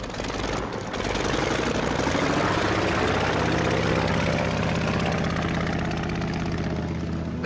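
A propeller airplane engine drones steadily and loudly throughout, a dense continuous roar with a rumbling low end as the plane pulls away, with no voices over it.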